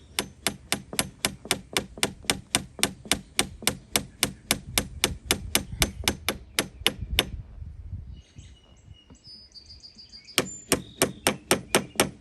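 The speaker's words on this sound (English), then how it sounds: "now I'm gonna go ahead and tap this directly with a hammer right on the pin itself" A hammer taps the pin of a chrome boat gas cap in a fast, steady run of sharp metallic strikes, close and loud. It pauses briefly around the middle, then a few more taps follow.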